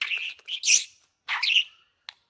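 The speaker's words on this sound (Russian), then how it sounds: "вот такой у меня красивый ручной попугайчик, еще и разговаривает" A tame pet parakeet chirps and tweets up close in a few quick bright bursts, then gives one short sharp peep after a pause.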